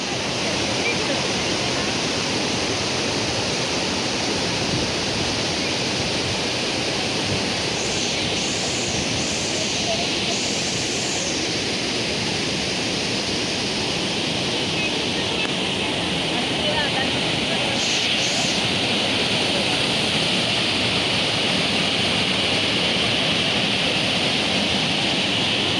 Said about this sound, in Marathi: ह्यो आमच्या नापण्याचो धबधबो